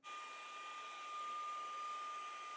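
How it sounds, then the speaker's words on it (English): A tiny handheld vacuum with a brush attachment whirs steadily while cleaning dust, lint and fluff from a Passap knitting machine, a continuous close motor hum with a high whine and no talk. "Just vacuum and brush at the same time, removing all the dust,"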